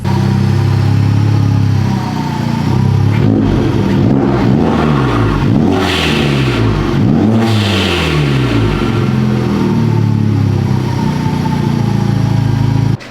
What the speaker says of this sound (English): Well, she went into gear. That's a start. And we are moving, boys.